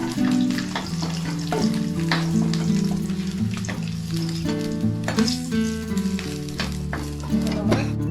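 Potatoes frying in hot oil for an egg and potato biryani, a steady loud sizzle running throughout with frequent stirring clatter and scrapes, mixed with background music.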